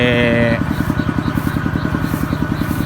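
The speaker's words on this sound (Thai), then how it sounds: "ตอนนี้ก็กำลังสูบน้ำใส่นะครับ" An engine-driven water pump pumps water through a long 50-meter hose into a rice paddy, its motor thumping in a steady rapid rhythm, close and fairly loud, after a brief higher-pitched whine at the start.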